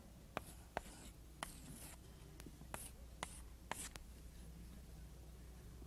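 Pen scratching on paper at close range, in short separate strokes with a few sharp taps, quiet and alone against a soft background hiss.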